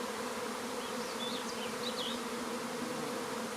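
Steady, dense buzzing from a honeybee swarm, a continuous droning hum with faint higher whines weaving through, moderately close and unbroken throughout.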